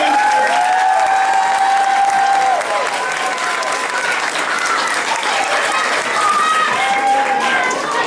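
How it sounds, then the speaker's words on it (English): Warm, steady applause from a crowd at an elementary school graduation, cheered on for a teacher, with voices and whoops mixed into the clapping for several seconds. "one more round of applause for Mr."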